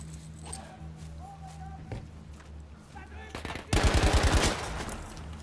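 Battlefield V gameplay with bursts of gunfire: scattered shots early on, then a loud rapid automatic burst near the end, heard under game background noise.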